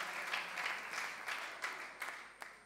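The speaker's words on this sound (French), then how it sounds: "Let's clap our hands in him." A church congregation claps along in praise, a steady wash of many hands with slightly accented rhythmic beats, continuous and fairly loud across the whole stretch, with no voices on top.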